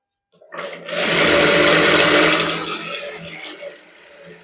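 Sewing machine running steadily as it stitches the side seam of a palazzo, a continuous close whirring hum that rises in, holds for about two seconds, then eases to a lighter run.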